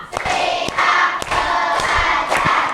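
Classroom children clap together in a rhythmic pattern, five or six sharp, evenly spaced group claps over a steady background of crowd noise, fairly close and loud.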